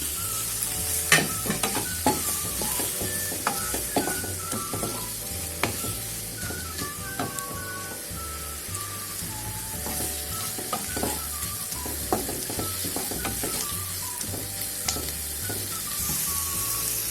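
Onions sauté in a pan with a dense, continuous sizzle, overlaid by frequent clinks and scrapes of a stirring spoon on the metal.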